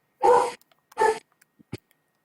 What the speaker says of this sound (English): Somebody's barking up a storm.